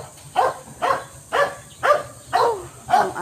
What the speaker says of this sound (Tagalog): Ang aso nila nandito nakabantay sa mga gilid ng karsada.